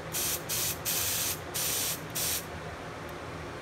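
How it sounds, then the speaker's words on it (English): An aerosol can of test smoke is sprayed at a fire alarm smoke detector in a bedroom, five short close hissing bursts with brief gaps between them. "let's go ahead and spray some smoke at this detector"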